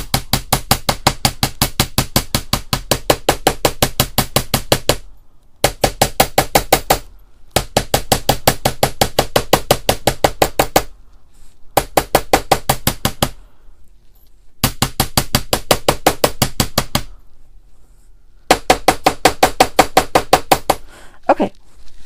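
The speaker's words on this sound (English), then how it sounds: "because the more you hammer a piece of wire, the harder it gets." Metal wire being hammered flat on a hard surface to shape a wire-frame pendant: rapid, evenly spaced sharp strikes in several loud bursts of a few seconds each, separated by short pauses, with no talking.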